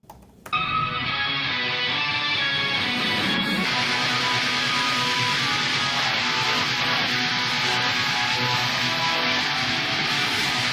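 Dense, distorted heavy metal electric guitars play continuously at full loudness, a heavy wall of sound after a brief quiet start.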